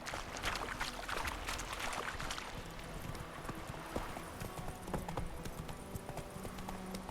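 A horse trotting along a road in The Witcher 3: Wild Hunt, steady rhythmic clip-clopping of hooves with jingling tack, moderately close and fairly quiet, continuing throughout.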